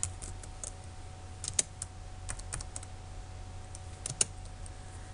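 C++ code is typed on a computer keyboard, with quiet, irregular key clicks and an occasional louder keystroke over a low background hum.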